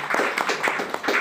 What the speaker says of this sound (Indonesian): Boleh sekali lagi tepuk tangan ya.